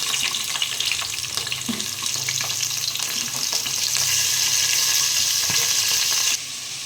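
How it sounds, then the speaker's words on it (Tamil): Onions fry in oil with bay leaf, star anise, cinnamon, cloves and cardamom for chicken dum biryani, a loud, continuous close sizzle with stirring scrapes, dropping off abruptly near the end. "பிரியாணி இலை ஸ்டார் பூ பட்டை கிராம்பு ஏலக்காய் எல்லாம் சேர்த்து இந்த மாதிரி ஒரு ஃப்ரை பண்ணி எடுத்துக்க வேண்டியதுதான்"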